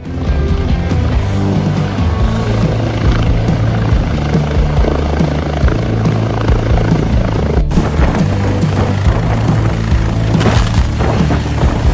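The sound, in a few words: helicopter flying between hangars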